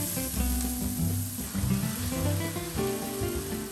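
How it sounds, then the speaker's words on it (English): Grape tomatoes sizzle in olive oil in a large sauté pan over medium heat, a close, steady frying hiss that runs the whole clip with faint stirring movements and no talk. "Cook the tomatoes, stirring frequently."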